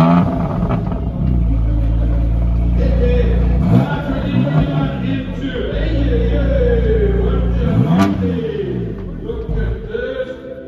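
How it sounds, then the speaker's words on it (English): A BMW M2 revs its engine nearby with a loud, steady rumbling drone and a couple of sharp throttle blips, among other cars. "Then I heard the M2 rev."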